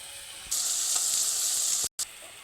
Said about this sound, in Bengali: কাঁচা মশলাগুলো সবগুলো ভালোভাবে ভাজা ভাজা হয়ে গেছে